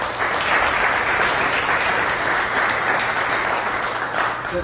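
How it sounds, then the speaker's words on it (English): Town hall audience applauding panelists at a business and agriculture gathering in Iowa, a full, steady round of clapping from a sizable crowd that lasts throughout. "Let's give them one big round of applause."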